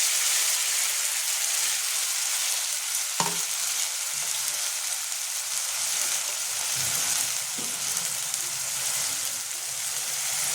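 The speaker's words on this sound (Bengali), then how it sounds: "এবার আমি যে মশলাটা পেস্ট করেছিলাম এটা আমি এবার দিয়ে দেবো এর মধ্যে" Spice paste going into onions already fried red in a pan for Bengali aloo dum, giving a steady close hiss and sizzle with a sharp clatter near the start and faint stirring scrapes, no voices.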